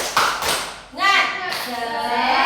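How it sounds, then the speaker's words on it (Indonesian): Schoolchildren in a grade 6 classroom clap the 'tepuk semangat' chant, a few sharp hand claps up front followed by children's voices chanting together, close and loud. "Semuanya tepuk semangat."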